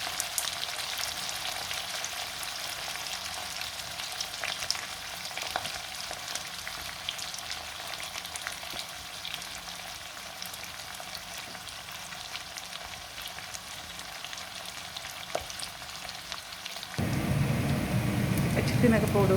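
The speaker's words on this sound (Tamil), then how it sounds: "2 பெரிய வெங்காயம், ஒரு உள்ளி ஃபுல்லாக போட்டு ப்ரௌனாக வர இது நல்லா பொரிஞ்சு ப்ரௌனாக வர பொழியும்." Onions and garlic frying in oil for a Jaffna-style chicken curry, a steady dense sizzle that holds evenly at close range, then grows louder and fuller near the end as the pan is stirred.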